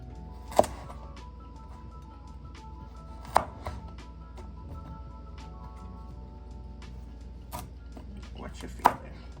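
A kitchen knife cuts vegetables into strips on a board for Jamaican steamed cabbage, with a few sharp, isolated chops spaced seconds apart under a steady low background hum.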